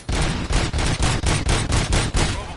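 Rapid bursts of automatic gunfire in the RoboCop: Rogue City video game, loud and close, with about ten evenly spaced volleys and no talk over them.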